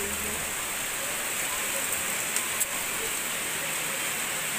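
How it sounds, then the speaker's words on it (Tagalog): Steady, dense hiss of heavy rain pouring down, constant and enveloping with no pauses. "Lumalakas na po yung ulan."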